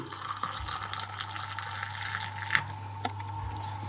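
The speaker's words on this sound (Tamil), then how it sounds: "இனி கொதி தண்ணி அதுக்கு ஊற்றுங்க, நல்லா கொதிச்ச தண்ணி." Boiling water poured from close by onto ground coffee and sugar for egg coffee, a steady trickling fill with a few light clinks over a low hum.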